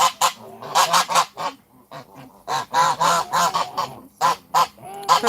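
A pet goose honks loudly and close by in repeated bursts, with short pauses between the loud calls and a few quieter gaps in between.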